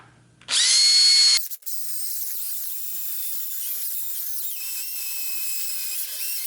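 A face shield lens is sanded with 600 grit sandpaper. A sharp, high whine starts abruptly, then settles into a steady, loud, close grinding hum, with no voices.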